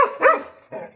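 A Belgian Malinois barks twice, sharp and close, with a short gap between the barks and no talk.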